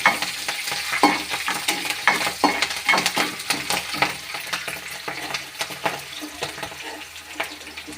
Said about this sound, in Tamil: எண்ணெயில் போட்டோம்னா நல்லா பொறிஞ்சு போய் இன்னும் நல்லா மணமாக இருக்கும்